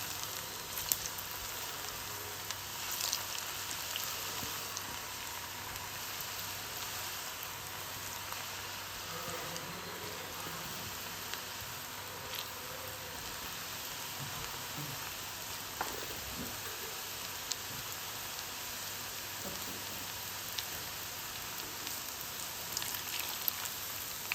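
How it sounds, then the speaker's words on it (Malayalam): Onion bhaji batter fries in hot oil with a steady, loud, crackling sizzle that runs unbroken and close, with faint sharper pops scattered through it. "ഇതുപോലെ ഇട്ടിട്ട് പൊരിച്ചെടുക്കാം"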